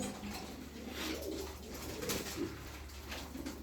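A young male Gittiler pigeon coos softly and repeatedly in a quiet room, low rolling calls close by with no other sounds over them.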